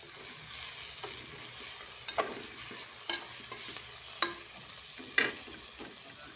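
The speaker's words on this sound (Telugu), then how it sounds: "పచ్చిమిర్చి అన్నీ వేసుకొని కొంచెంసేపు వేగిన తర్వాత గరం మసాలా పౌడర్ ఇట్లా వేసుకున్నాం. అలాగే కొత్తిమీర కూడా వేసుకున్నాను." Green chillies fry in a pan with garam masala powder and fresh coriander, giving a soft continuous sizzle punctuated by a few sharp stirring clanks and scrapes, with no talking.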